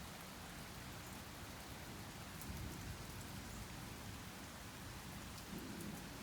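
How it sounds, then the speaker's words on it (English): Afternoon thunderstorm rain falls in a steady, dense hiss with scattered drop ticks, fairly quiet and unbroken, and a faint low rumble swells briefly partway through and again near the end. "Raining just the slightest bit harder again."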